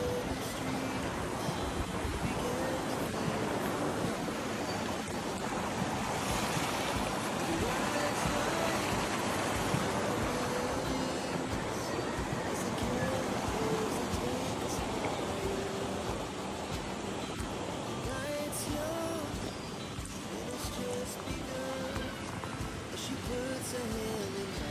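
River water flowing in a mountain stream in Malalag, a steady broadband rush of current filling the scene throughout, close and continuous, with faint voices now and then underneath.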